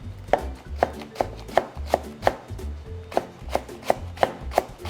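A knife slices green onion thinly on a cutting board, giving about a dozen crisp, evenly spaced chops close up with no talking.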